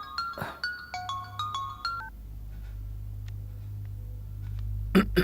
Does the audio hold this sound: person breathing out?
no